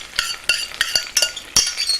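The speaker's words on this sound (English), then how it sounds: "I'll take my spatula and lift up the veal" A metal spatula scrapes and clinks against a hot pan as it lifts veal in sauce, making a series of quick, sharp taps and scrapes close up over a faint sizzle.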